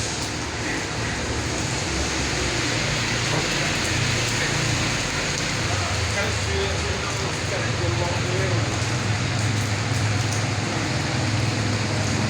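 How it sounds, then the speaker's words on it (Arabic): Steady morning rain falling in Meknes, a constant close hiss of drops on surfaces filling the whole clip at even loudness, with faint traffic rumble underneath. "شتيوا في مكناس هذا الصباح."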